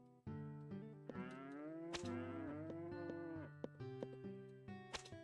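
A mother cow in the Harvest Moon: Hero of Leaf Valley video game gives a long, loud, close moo during milking, with a few short game clicks and chimes after it.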